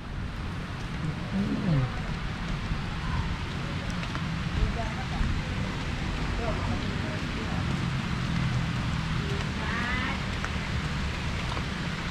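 Steady rain falls on a centuries-old traditional Banjar stilt house in Martapura, South Kalimantan, a constant dense hiss filling the whole stretch with faint scattered sounds and murmuring voices underneath.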